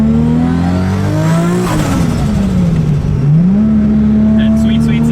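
A rebuilt 1000+ hp Toyota Supra engine revs loudly up close, its pitch climbing, dropping back, then rising again in a continuous roar.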